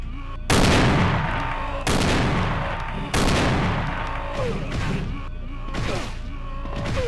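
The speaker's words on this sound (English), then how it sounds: "Shotgun." Shotgun blasts in Resident Evil 2 during Leon's playthrough: three loud, booming shots spaced a second or so apart, each trailing into echoing game noise and clatter.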